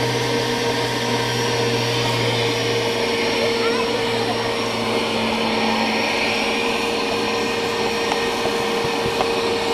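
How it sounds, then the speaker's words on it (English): A vacuum cleaner works against the finned radiator of a Tesla, giving a steady, loud motor drone with a low hum that runs the whole time without a break. "you need a new vacuum, that one is not suctioning much"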